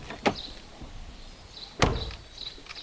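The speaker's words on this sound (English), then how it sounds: "The rear doors make this sound." A car's rear door shuts twice in a row, each close a short, sharp thud, fairly quiet against a low background hum, with about a second and a half between them.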